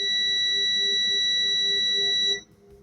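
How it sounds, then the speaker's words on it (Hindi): A clamp meter's continuity beeper sounds with its probes shorted together, a steady, loud high-pitched tone held for over two seconds before cutting off abruptly. "हमारा क्लाइमीटर बीप ही दे रहा है"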